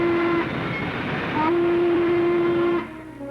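A Norfolk and Western steam locomotive runs with a steady, loud mechanical rumble, and a long sustained whistle tone sounds briefly, pauses, then returns for over a second before the train noise continues alone.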